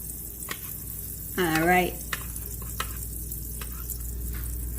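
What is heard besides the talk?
French toast frying in butter in a non-stick skillet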